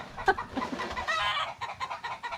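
Chickens cluck and squawk in short bursts, close by and busy, with a mix of overlapping hen calls in a farmyard.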